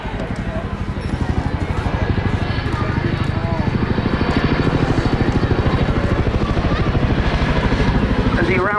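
A Chinook helicopter's twin 5,000-shaft-horsepower engines power it through a climb during an airshow display at Southport in 2023. The rotor chop is loud and rhythmic and builds steadily, with a commentator's voice running over it.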